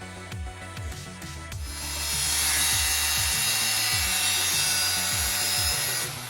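A socket opening is cut into a 150-watt inverter cabinet: a series of rhythmic rasping saw strokes gives way to a steady, loud, high-pitched power-tool whine that continues to the end.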